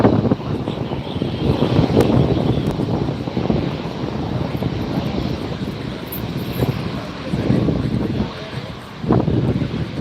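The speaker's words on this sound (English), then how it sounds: "This Delta is headed to Paris. It's an Airbus 350, 900 series." A Delta Airbus A350-900 jet bound for Paris at LAX roars steadily and loudly, a broad continuous engine rumble with wind buffeting the microphone, while voices talk over it.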